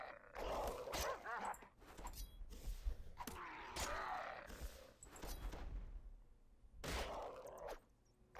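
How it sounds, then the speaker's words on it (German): Dogs barking in the video game Dungeon Siege, repeated yips and barks over a busy game soundscape with mechanical clatter, several loud bursts spread through the passage. "Jetzt pullen wir wahrscheinlich die ganzen Hunde."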